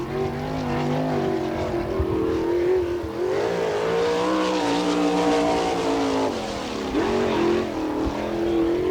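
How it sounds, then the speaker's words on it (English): Sprint car number 18, an All Star Circuit of Champions car at Attica, Ohio, roars through a solo qualifying lap, its engine note loud and steady, rising and falling in pitch as it works through the corners. "Bobby Teeple on the clocks right now in car number 18"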